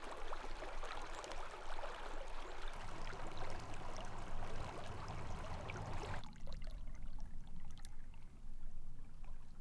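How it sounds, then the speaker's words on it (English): Small creek in southwest Utah flowing steadily with a broad, continuous watery rush close by; the tone thins and brightens slightly partway through, with no voices. "It's a nice little creek."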